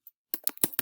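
Quick keystrokes on a computer keyboard, a short burst of close, crisp clicks in an irregular rhythm after a brief pause, with no talking.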